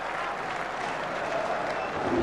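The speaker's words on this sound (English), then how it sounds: "This crowd have gone absolutely wild" A cricket crowd erupts in sustained cheering and applause after a batsman reaches a rapid fifty, a dense, loud roar of clapping and shouting that holds steady throughout and swells slightly toward the end.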